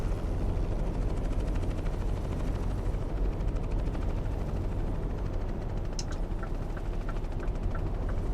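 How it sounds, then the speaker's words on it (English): Helicopter in a trucking video game trailing a truck, a steady loud rotor and engine drone with dense low rumble running throughout, a few faint clicks near the end. "I think the chopper's following us."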